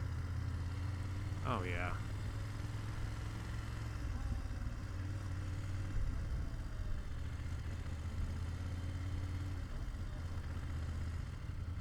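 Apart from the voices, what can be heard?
BMW F900GS Adventure motorcycle engine running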